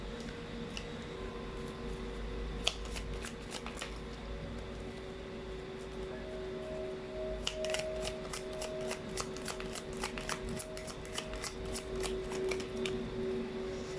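A deck of tarot cards is shuffled in rapid riffling bursts, crisp close flutters of cards with short pauses between, over a faint steady hum and no voices.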